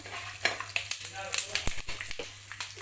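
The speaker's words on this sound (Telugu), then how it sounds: "శనగిత్తనాలు వేసుకుందాం బాగా ఫ్రై చేసుకుందాము" Peanuts fry in hot oil for Telugu lemon rice. A soft, close sizzle runs under stirring clicks and scrapes, with faint bits of voice now and then.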